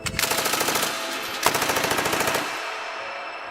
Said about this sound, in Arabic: اطلاق نار كثيف بهذا الممر